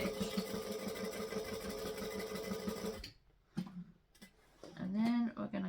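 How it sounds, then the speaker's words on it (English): A sewing machine back stitching a fabric panel runs steadily for about three seconds, then stops, leaving brief clicks and a voice speaking afterward. "I'm going to stitch, back stitch"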